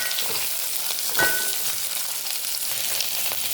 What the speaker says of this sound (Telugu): ఇలా 1 నిమిషం పాటు హై ఫ్లేమ్లో వేయించుకోవాలి.